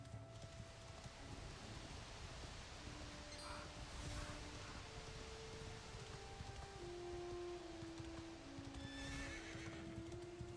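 A horse in the Dragon Quest 11 video game neighs twice against a bed of soft hoofbeats and rain-like rustle, with a gentle tonal melody running underneath.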